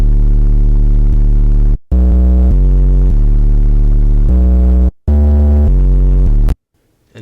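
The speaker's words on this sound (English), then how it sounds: "First, I got this 808 right here, which sounds like this." An 808 bass drum programmed in FL Studio booms in long, loud, sustained low hits, several in sequence separated by brief gaps, with a short clipped tail at the end.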